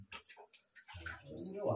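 Water flows inside a cave during a treasure hunt, a close, splashing wash that swells toward the end while people talk over it.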